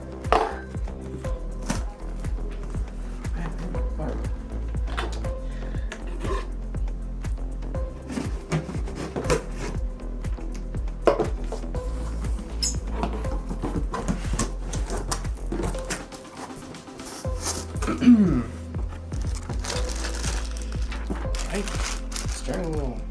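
Scraping, tapping and clattering as a butter knife works at the cardboard packaging of a Thrustmaster steering wheel and TLCM pedals box, a steady run of small knocks and rustles at close range.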